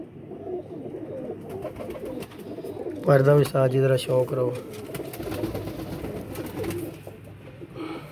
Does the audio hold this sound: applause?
no